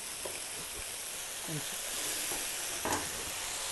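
Fresh tomato pieces being stirred into a frying chicken curry, giving a steady sizzling hiss with a few soft scraping stirs near the pan and no talking.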